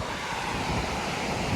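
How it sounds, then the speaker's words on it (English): Calm sea waves at Peniche beach in Portugal make a soft, steady wash mixed with light wind noise, faint and continuous with no distinct breaks. "the waves are very calm"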